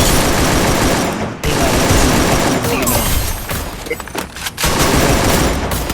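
Rapid automatic gunfire in a battle royale video game, loud and sustained with dense overlapping shots and booms, briefly broken by short pauses.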